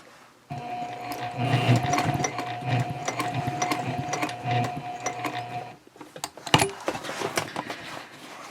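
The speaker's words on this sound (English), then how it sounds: "I pivot and I stitch again across that bottom line of stitching" A sewing machine runs in a steady mechanical whir while stitching a tote bag, close and continuous for several seconds, then stops briefly before a few clicks and a short restart.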